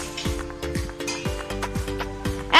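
Tomato chutney being stirred in a pan, a close, steady run of spoon scrapes and soft sizzling about every half second, ending in a louder scrape.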